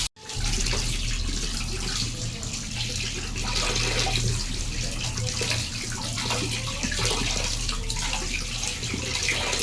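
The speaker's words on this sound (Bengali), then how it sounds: "মাছটা ঝটপট করে ধুয়ে নিই" Tap water runs steadily as fish is rinsed in a home kitchen, a continuous close splashing wash with no talk.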